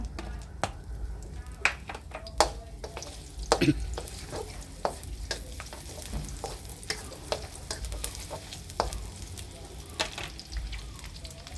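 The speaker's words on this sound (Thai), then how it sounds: "น้ำมัน เริ่ม ร้อน กระเทียมพริกลง ค่ะ" Garlic and chili stir-frying in hot oil for a pork and long bean kaphrao, with a soft, continuous sizzle under frequent sharp clicks and scrapes of a spatula against the pan, close and moderately quiet.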